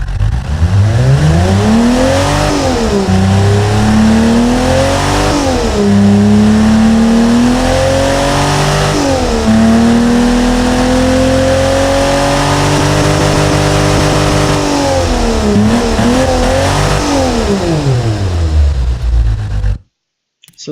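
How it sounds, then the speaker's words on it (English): A simulated Nissan L28 straight-six fed by twin SU carburetors, from the Automation car-building game, revs repeatedly in loud close sweeps, pitch climbing and dropping several times before cutting off abruptly at the end. "So let's fire this beast up and see how it will, and hear how it will sound."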